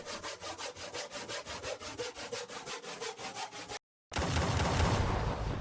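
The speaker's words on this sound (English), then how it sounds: "Then we're going to add a generous grating of nutmeg." Nutmeg grated by hand for a sour cream strata mix: a steady run of quick, close rasping scrapes in a regular back-and-forth rhythm, then a brief gap before a denser, continuous scraping burst.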